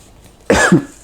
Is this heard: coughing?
yes